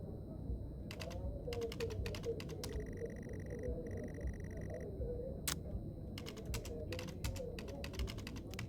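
Keys clacking on a computer keyboard in the horror game Stories Untold: bursts of quick keystrokes in uneven clusters, close and crisp, over a low droning room hum, with a faint electronic tone mid-way and a man muttering briefly.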